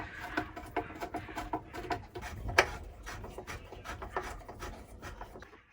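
A part on a Yamaha DT125LC motorcycle is turned by hand, giving a dry, uneven series of scraping and rubbing clicks, close and quiet, with a single sharper tick midway.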